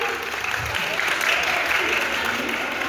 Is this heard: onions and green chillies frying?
no